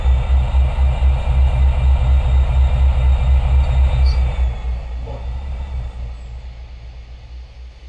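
A Lehigh Valley Railroad SD16 diesel locomotive, number 8104, in Trainz Railroad Simulator 2019 rumbles steadily with a deep engine drone that gradually fades.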